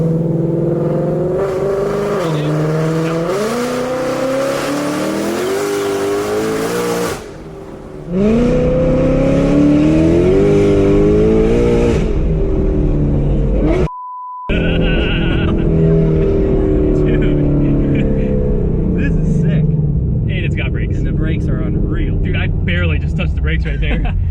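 An 1100 hp Shelby GT500 on its stock engine revving hard toward 8800 rpm: loud, close engine roars that climb and fall in repeated bursts, with two brief drops in the middle and a rougher, busier stretch of engine noise afterward.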